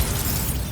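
A Bombarda spell detonates in Hogwarts Legacy during a fight inside a mine, giving one loud, short, dense blast that fills the moment with no voices.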